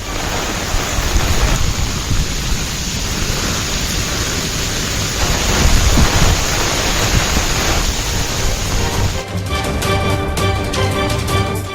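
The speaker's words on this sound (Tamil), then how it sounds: "இடைவிடாது வெளுத்து வாங்கிய கனமழையால் சென்னை ஐயப்பன் தாங்கல் பேருந்து நிலையம் வெள்ளக்காடாக மாறியது." Heavy rain pouring in Chennai, a dense, loud, unbroken roar of downpour that runs throughout with no voices.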